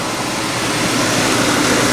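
A car engine idles with the air conditioning running during an A/C compressor change, making a loud, steady hum and whir that holds without variation through the short stretch.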